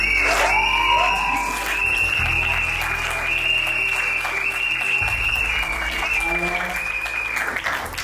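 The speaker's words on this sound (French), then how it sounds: "je souhaite qu'un tonnerre d'applaudissements soit fait" Applause and cheering from guests at a civil wedding in Gabon, a sustained crowd clapping with scattered whoops and a voice over a loudspeaker, and a low rumbling hum underneath throughout.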